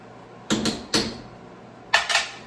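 A spoon knocks and scrapes in a pot as canned corn is stirred into shrimp and corn bisque, in two short clusters of sharp metallic clinks separated by quiet.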